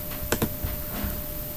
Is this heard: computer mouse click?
yes